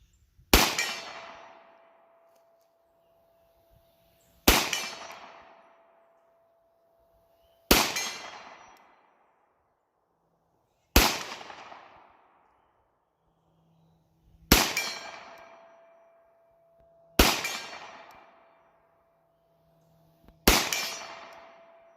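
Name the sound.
Girsan Regard 6 9mm pistol shots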